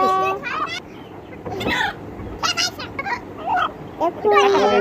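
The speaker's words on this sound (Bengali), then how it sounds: "প্রথমে মোরগটা খোয়ার থেকে ধরা হচ্ছে।" A native country rooster clucks and squawks in several short, loud bursts while it is caught from its coop, with voices talking nearby.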